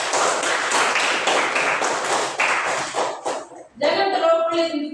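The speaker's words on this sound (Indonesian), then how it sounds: "Tepuk tangan untuk ketiga teman." Applause in a classroom: a group of students claps steadily and fairly close, with the claps thinning out toward the end. Voices join in near the finish.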